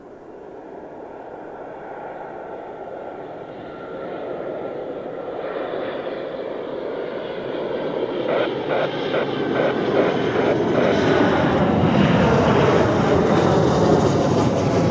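An airliner at Zurich Airport, its jet roar steadily building and growing louder across the whole stretch as it draws nearer, a broad continuous rumble with no one talking.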